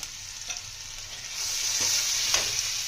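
Ground coriander, cumin, turmeric and chili powder hit hot oil for a vetki fish curry with a steady sizzle that swells as they fry, plus a few light stirring scrapes, close by.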